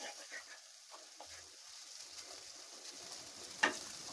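Goat spleen (suvarotti) frying on a slow flame in a pan, with a soft, faint sizzle and light scraping stirs, ending in a sharper clatter near the end.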